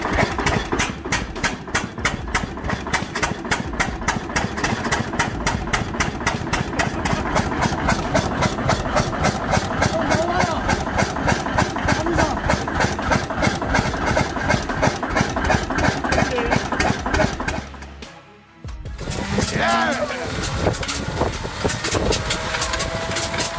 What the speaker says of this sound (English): With 9 cylinders and 985 cubic inches of displacement, the Pratt & Whitney R985 stands as a masterpiece